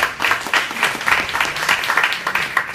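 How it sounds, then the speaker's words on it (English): An audience at a campus talk on depression and anxiety gives a short round of applause, with quick irregular claps close and fairly loud for under three seconds. "you can give yourselves a round of applause for that"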